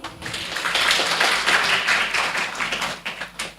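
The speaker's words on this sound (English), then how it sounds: "Please give applause." Seminar audience at an Indonesian university clapping, a dense, fairly close round of many hands rising quickly, holding steady, then tapering off with a few scattered final claps.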